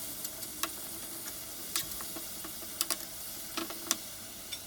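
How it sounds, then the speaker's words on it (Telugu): A spoon stirs and mashes tomatoes in a pan of egg curry, making sharp, scattered clicks and taps against the pan over a faint low sizzle, with no talking. "మంచిగా స్పూన్తో ఇట్లా కలుపుతున్నప్పుడు టమాటోస్ ఏమైనా ఉంటే స్మాష్ చేయండి"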